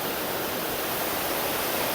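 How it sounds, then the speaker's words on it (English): A waterfall in the Lake District fells near Easedale, a loud, steady broadband rush of falling water with no breaks, close by and alone. "This waterfall."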